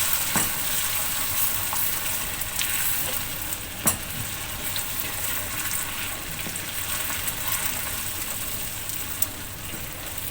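Butter sizzles and hisses hard in hot caramelized sugar, a dense, unbroken frying noise with a few sharp pops and spatters, heard close up with no voices.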